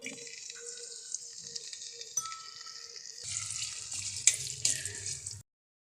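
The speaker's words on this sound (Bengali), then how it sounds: "একটা পাত্রে এক কাপ মতো তেল নিয়ে এবার ওর ভিতরে পেঁয়াজগুলো দিয়ে দিব বেরেস্তা হওয়ার জন্য" Sliced onions fry in about a cup of oil for birista, starting as a faint crackle with a few drips, then a louder sizzle that swells partway through before the sound cuts off.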